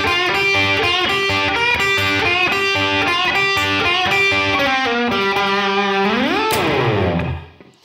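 A distorted electric guitar plays a blues lick: a run of ringing, overdriven notes, then a rising bend near the end, followed by a quick fade to silence.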